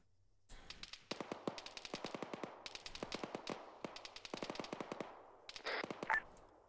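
Bursts of machine gun fire in ArmA, a military shooter, with rapid repeated shots in several clusters, fairly close and loud, with no talking.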